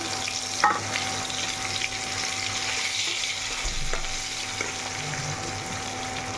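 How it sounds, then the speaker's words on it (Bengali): Chopped onions fry in hot oil in a pan, giving a steady close sizzle with faint stirring scrapes and no talking. "পেঁয়াজটা আমার ভাজা হয়ে গেল, তারপর টমেটোটা দিয়ে দিলাম"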